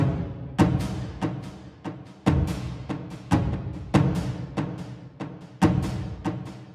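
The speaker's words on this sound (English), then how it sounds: "Those war drums sound like this." A layered war drum sample pounds out a steady pattern of booming hits with heavier accents, each stroke decaying briefly before the next, with no voices.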